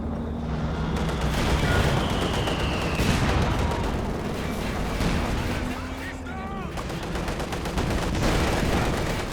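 Soviet anti-tank guns firing in a Company of Heroes 2 2v2 match, heavy cannon shots mixed into a dense, continuous wash of loud battle noise with gunfire and blasts throughout.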